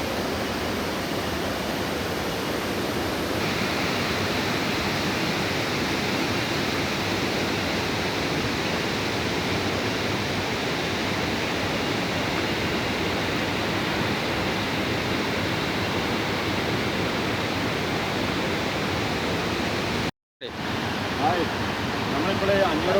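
Thusharagiri waterfall sending a steady, broad roar of rushing water that carries on unbroken for over twenty seconds, with one brief dropout near the end.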